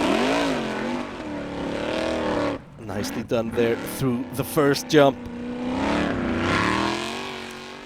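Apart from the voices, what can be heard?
Formula Offroad car engine at full throttle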